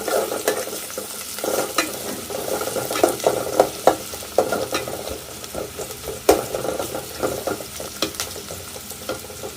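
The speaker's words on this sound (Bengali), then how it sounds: "পেঁয়াজ কুচিগুলো দিয়ে দিচ্ছি পেঁয়াজগুলো আমি নেড়ে চেড়ে ভেজে নিচ্ছি" Chopped onions fry in hot oil while being stirred, a close sizzle broken by repeated scraping and clacking strokes of a spatula against the pan.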